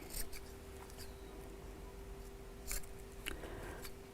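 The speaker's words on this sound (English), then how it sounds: "snip across the corners" Scissors make several short, faint snips across the corners of sewn fabric at a quiet sewing table, spaced irregularly over a low background hum.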